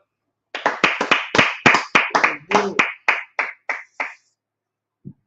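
About a dozen sharp hand claps in a steady, slightly accelerating rhythm, close and loud, then a short pause and one faint final tap.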